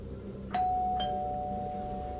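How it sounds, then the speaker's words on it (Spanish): A doorbell rings in a quiet bedroom setting at night: two bright chimes in quick succession, the second tone sustaining and slowly fading over a low background hum. "El timbre interrumpió el sueño que tenía hasta ese momento"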